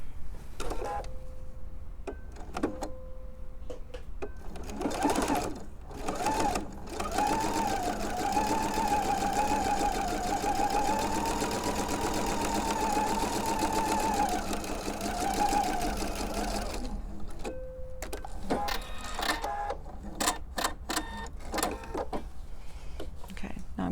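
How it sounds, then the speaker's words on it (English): Sewing machine stitching quarter-inch seams along both sides of a half square triangle quilt block, a steady continuous whir lasting several seconds between shorter bursts and pauses, with a voice talking over parts of it. "I'm sewing a 1/4 inch on either side of this"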